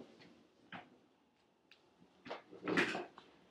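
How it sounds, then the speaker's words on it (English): A chair is moved around indoors, giving a few soft, scattered knocks and bumps and then a brief scraping shuffle, all fairly quiet with no talking. "I'm going to move my chair here so that the contrast will be greater"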